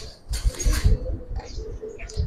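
A silver Giribaz pigeon gives a short, close, low cooing burst, followed by a quieter murmuring coo.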